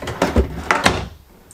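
Dresser drawers in the bedroom of a 2022 Grand Design Solitude 3740BH fifth-wheel RV slide and knock several times in quick succession, close and fairly loud, then fall quiet, with no talking.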